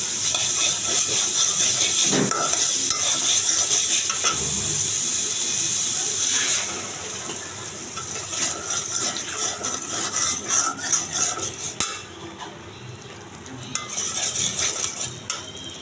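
Whole green chilies and water spinach sauté in hot oil, with a loud hiss that drops about midway, followed by clattering utensil scrapes against the pan and a continuing softer sizzle.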